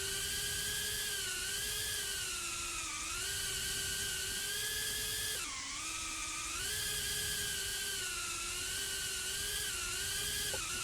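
A Tiny Whoop micro drone races laps on an indoor track, its tiny motors letting out a continuous high-pitched whine that rises and dips with throttle changes, close and loud without speech.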